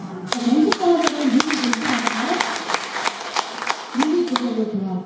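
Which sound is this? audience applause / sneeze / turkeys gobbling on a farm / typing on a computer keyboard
audience applause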